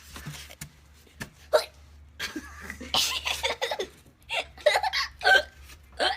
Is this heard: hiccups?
yes